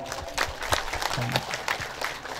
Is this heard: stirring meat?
no